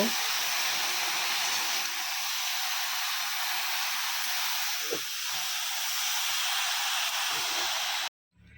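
Chopped coriander leaves frying in oil in a pan give off a steady, close, dense sizzling hiss that barely changes for several seconds, then cuts off abruptly near the end.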